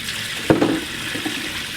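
Running tap water splashes while kedondong fruit are washed one by one by hand, a steady close stream with a few louder splashy bursts as the fruit is handled under it.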